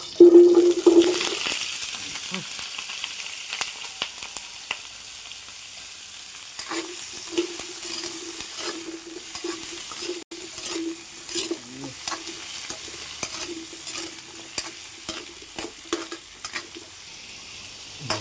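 Squash pieces fry in a pan alongside string beans, with a sizzling bed under repeated scraping and clinking stirs of a utensil against the pan, close and fairly busy, with no speech.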